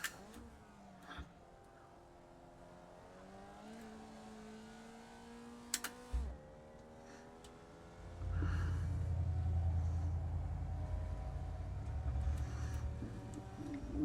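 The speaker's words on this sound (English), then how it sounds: "rumble strips." Open-wheel rookie formula race car in iRacing running over rumble strips, a steady engine whine with shifting tones, then a loud low rumbling buzz from the kerbs that lasts several seconds before easing off.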